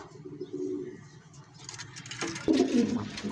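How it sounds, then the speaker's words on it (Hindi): A pigeon coos in low, soft throaty calls close by, first alone and then more loudly as a rustle and clatter of movement joins in. "ये है जी कबूतर।"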